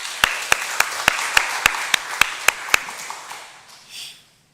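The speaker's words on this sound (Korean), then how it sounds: "박수 한번 드릴까요?" About ten evenly spaced, sharp claps at a Baptist church Sunday service, crisp and close, then tapering off into a faint soft rustle.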